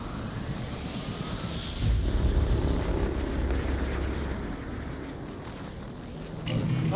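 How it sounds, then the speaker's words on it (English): An airplane roars past in a VR video game, a steady loud engine drone that swells around the second mark and holds, with no talk over it. "That's another plane!"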